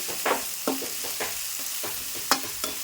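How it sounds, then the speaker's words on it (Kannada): Onions and green chillies frying in a pan, a continuous oily sizzle broken by several sharp spatula scrapes and taps against the metal, close and steady with no talking. "ಉಳ್ಳಾಗಡ್ಡಿ ಮೆಣಸಿನ್ಕಾಯಿ ಒಂದು ಸ್ವಲ್ಪ ಫ್ರೈ ಅವ್ರಿ"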